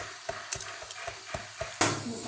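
A ground tomato and onion gravy stirred and sizzling in a pan of masala for minced meat, with repeated soft scraping strokes over a steady, close frying hiss.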